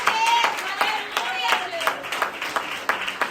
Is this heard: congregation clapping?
yes